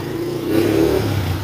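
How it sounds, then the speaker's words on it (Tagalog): A motorcycle engine revving up briefly, a rising mid-pitched drone that swells and eases within a second and a half, close and fairly loud. "Nagingay na yung motor."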